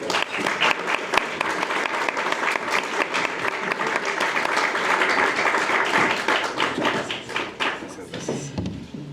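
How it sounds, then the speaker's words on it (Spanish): An audience applauds steadily for several seconds, a dense wash of clapping that fades out at the end. "Demos un aplauso a Larry para que..."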